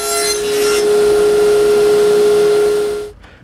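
A power saw cuts wooden stop blocks to width in a woodworking shop, a loud sustained whining cut with a steady tone that ends abruptly in near silence.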